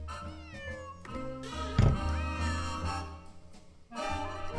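Several drawn-out cat meows, some rising and wavering, sound in succession from a cat in a Nancy Drew video game, alone and fairly close.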